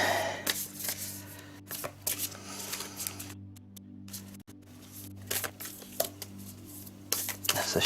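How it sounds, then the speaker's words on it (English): A deck of playing cards is shuffled over and over nearby, with bursts of papery riffling and flicking broken by short pauses against a faint steady background hum, no talking. "That's a shuffle."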